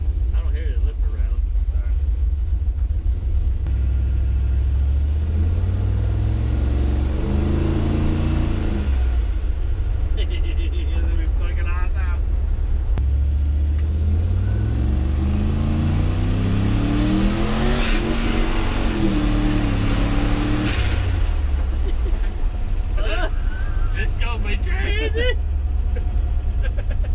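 Turbocharged LS V8 in a C10 pickup truck with valvetrain clatter, revving repeatedly in loud, close surges that rise and fall in pitch over a continuous rumbling idle, with people talking briefly over it.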